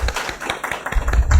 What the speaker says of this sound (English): Let us join with an applause.